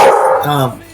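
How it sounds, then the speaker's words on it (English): A single short dog bark, close and loud, quickly fading out. "Sorry, that's just my dog."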